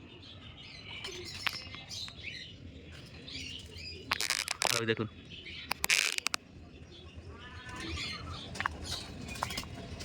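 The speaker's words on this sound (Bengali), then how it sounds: "পায়রাগুলো কিরকম পাগলামি করছে" Pigeons in a home rooftop garden flap their wings in a few sharp bursts and give chirpy calls, close by, over a low background hum, with a person briefly talking.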